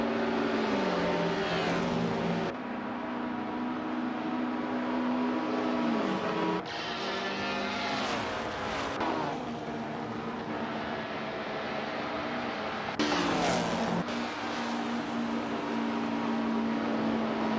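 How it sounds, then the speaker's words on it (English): AI-driven 1950s Formula One racing cars in a simulator game at the Bahrain circuit, engines screaming past with rising and falling pitch and gear shifts, loud and close, several cars passing in succession. "we've been watching racing cars driven by artificial intelligence in a racing simulator"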